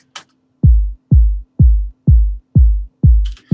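Six deep sub-bass hits in a steady rhythm, each booming low and decaying quickly, with a faint thin tone running underneath and brief clicks at the edges.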